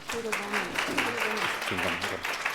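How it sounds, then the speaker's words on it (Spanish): Audience applause at an ethnography lecture at Mexico's National Museum of Anthropology, a moderate patter of clapping running under people talking nearby for about two and a half seconds. "Por favor, un aplauso"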